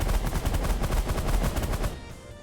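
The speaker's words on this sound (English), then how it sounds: "Back to the minigun, go." Rapid minigun fire from a ship in the space game The Last Federation, a fast, steady stream of punchy shots close and loud, tapering off into a fading tail after about two seconds.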